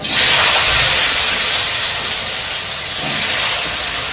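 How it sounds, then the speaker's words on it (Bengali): Sliced potatoes frying in a pan for a khichuri meal, giving a loud, steady broadband hiss that holds for the whole stretch with no voices. "পাপড়টাকে ভেজে রেখে দিয়েছি আর এই আলুটাকে ভাজছি"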